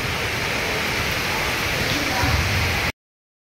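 Heavy rain pours down in a dense, steady roar that holds evenly for about three seconds, then cuts off abruptly.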